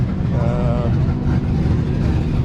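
A 1978 Porsche 928's engine idles close by through an open header exhaust, very loud with a deep, rough, rumbling note, steady and throaty throughout.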